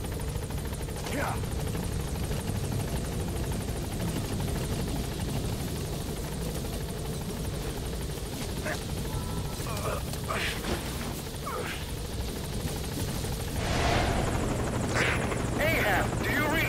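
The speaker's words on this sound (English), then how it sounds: "Support helicopter has arrived." A support helicopter's rotor thrums steadily and loudly throughout, with occasional crashes and game sounds mixed in, in Metal Gear Solid V.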